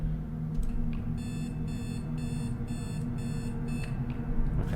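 An electronic puzzle in the video game Trapped emits a series of about five evenly spaced, high-pitched beeps over a steady low background hum, with no talking.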